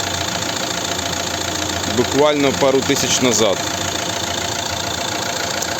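A Renault Megane III from 2013 with a 1.6 dCi diesel engine and a timing chain, idling with a steady low rumble under someone speaking close by.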